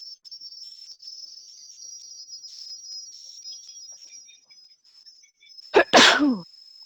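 One loud, sharp human sneeze bursts out near the end, following a long stretch of steady high insect chirping, likely crickets, in a quiet room.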